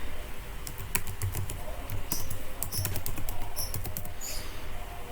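Rapid typing on a computer keyboard while a name and email are entered into a web sign-up form, heard as a close, steady stream of sharp key clicks in uneven bursts over low background noise.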